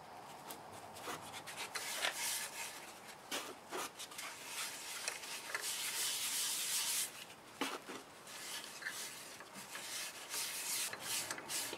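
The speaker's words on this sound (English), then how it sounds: "So now, I'm going to go over it with Axe abrasive paste." Abrasive paste is rubbed over the finish of a segmented ripple bowl turned from a board, a quiet, steady scratchy friction with soft irregular swishes and no talk.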